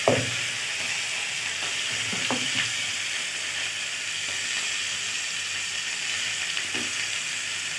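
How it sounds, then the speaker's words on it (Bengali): Cauliflower and potato frying in oil left over from eggs, a continuous bright sizzle and hiss close by, with a loud clank at the start and occasional soft scrapes of a spoon, no talking. "ওই তেলে এবার এই ফুলকপি আলুটা ভেজে নেব, অল্প করে ভেজে নেব।"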